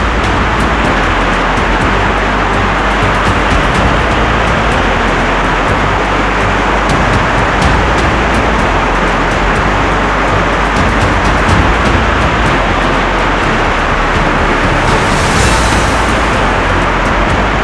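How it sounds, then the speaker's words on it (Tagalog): Heavy rain pours steadily outdoors near dog cages and a terrace, a dense, loud, unbroken roar that continues throughout with no pauses. "ang lakas na guys ng ulan"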